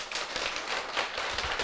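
An audience gives brisk, continuous applause: dense clapping that stays even for the whole stretch, fairly close and with no voices over it.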